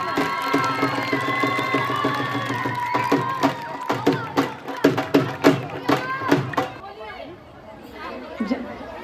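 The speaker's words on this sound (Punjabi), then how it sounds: "ਸੋ ਇੱਕ ਵਾਰੀ ਜ਼ੋਰ ਨਾਲ ਤਾੜੀਆਂ ਭੀਰੇ ਬਾਬੇ ਲਈ" A crowd at a Punjabi village fair claps in a burst of loud rhythmic applause over chatter and cheering voices, with people talking throughout.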